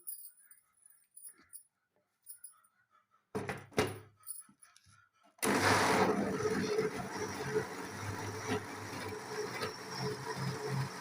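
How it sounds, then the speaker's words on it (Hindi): A kitchen grinder blends green chilies with water for sarson ka saag. After a few faint knocks and clatters, the motor starts loud and runs at a steady, dense whir close by to the end, with no talk. "अब इसमें ये सब्ज मिर्चें जाएंगी, इनको हम ग्राइंडर करेंगे"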